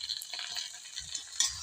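Sauce being stirred into pasta in a pan, soft scraping and light sizzle in short, uneven strokes, close and quiet, with no talking.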